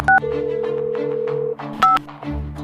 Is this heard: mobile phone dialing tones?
yes